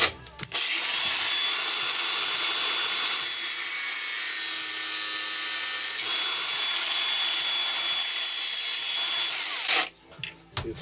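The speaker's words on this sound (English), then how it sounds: "Right, so we trim the head off this bolt." A power tool grinds steadily through the head of a steel bolt, salvaged for an emergency glow plug repair on a Chinese diesel water heater, a loud continuous high-pitched cut lasting about nine seconds before it stops abruptly.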